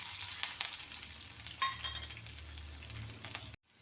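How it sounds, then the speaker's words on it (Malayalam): Mustard seeds, fennel, ginger, garlic and green chilli crackle and sizzle steadily in hot oil, a close, continuous frying hiss with scattered sharp pops before it cuts off abruptly. "കടുക് പൊട്ടി കഴിയുമ്പോഴത്തേക്ക് ഇഞ്ചി, വെളുത്തുള്ളി, പച്ചമുളക് ഇത് ഇട്ട് കൊടുക്കാം."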